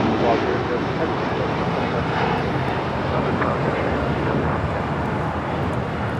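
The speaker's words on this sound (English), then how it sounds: "This is El Al, Flight 6, departing to Tel Aviv. The 787-9 Dreamliner." An El Al Boeing 787-9 Dreamliner, Flight 6 to Tel Aviv, departs Los Angeles, a steady, loud engine rumble held throughout with faint radio chatter underneath.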